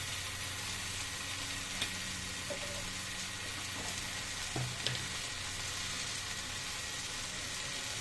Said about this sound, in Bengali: রসুন বাটা দিলাম